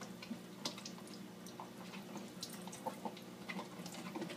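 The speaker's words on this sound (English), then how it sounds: "Now I'm washing tomatoes." Tomatoes are washed under running water at a sink: a faint, continuous splash with small clicks and knocks as they are handled, heard quietly and alone.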